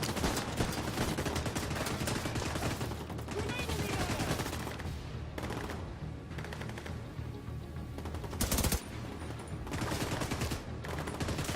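Dense bursts of automatic gunfire in The Division 2, a steady crackle of rapid shots running nearly nonstop with a few brief gaps and one sharp louder crack, heard without talk.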